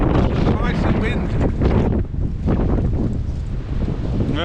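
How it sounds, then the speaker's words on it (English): Icy wind buffeting the microphone on an exposed walk through Templeton-Sinclair in Winnipeg, a loud, constant roaring rumble with gusty swells and no letup. "it is not very sheltered here. There's an icy wind."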